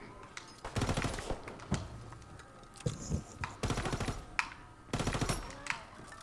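A rapid-fire gun fires in WW2 Zombies, several loud bursts of fast automatic shots separated by short pauses, with game noise in between.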